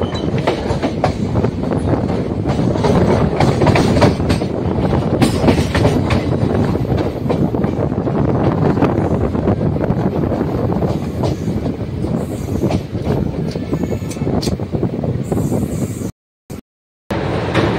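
Train 22604 rolls into Bhubaneswar Junction with a loud, continuous rumble and rhythmic clickety-clack of wheels over rail joints, heard from inside the carriage, cutting out briefly near the end.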